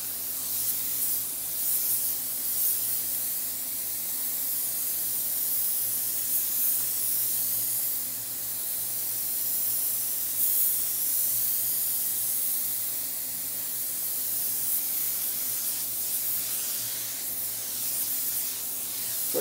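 A paint spray gun hisses steadily in a long, even burst while laying light coats on a car panel, close up and loud, with slight pulsing as the passes move.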